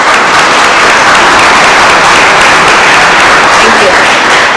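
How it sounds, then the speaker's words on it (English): A room full of people at a community foundation grants event claps loudly and continuously, a thick, close wash of applause with no break. "Let's give them a round of applause for attending."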